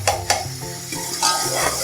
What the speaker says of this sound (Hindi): चार खाने के चम्मच हम अदरक लहसुन का पेस्ट डाल देंगे। अब इसको हम 2 से 3 से 4 मिनट तक हम फ्राई करेंगे